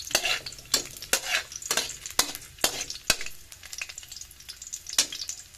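Garlic sizzles in hot oil in a pan while a utensil stirs it. Steady frying hiss runs under repeated scraping clinks against the pan at an uneven rhythm, close up, with no talk.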